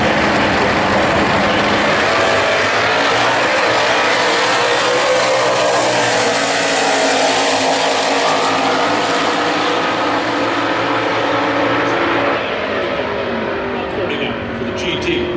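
A 440-powered Dodge Dart Super Stock drag car at the Winternationals roars loudly down the strip, a sustained high-revving engine note that swells and fades, with an announcer talking over it.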